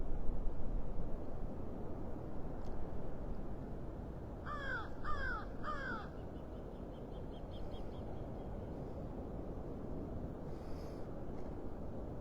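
Birds calling at Clam Pass in North Naples, Florida, in the early morning: a crow gives three quick harsh caws, with a few fainter calls later, over a steady low rush of surf and wind.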